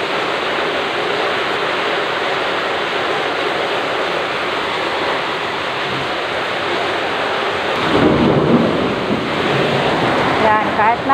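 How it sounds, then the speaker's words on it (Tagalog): Heavy tropical downpour during a thunderstorm, a steady roaring wash of rain throughout, with a deeper rumble of thunder swelling near the end. "kahit na kumukulog mga kamix, nagbibideo ako para makita nyo kung gaano kalakas ang ulan dito"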